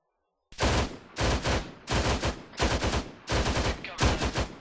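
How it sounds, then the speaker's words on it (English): Heavy automatic cannon fire from a BMP armored vehicle in a military video game, six loud rapid bursts in quick succession, each a rattling string of shots close by. "Is that the BMP shooting us?"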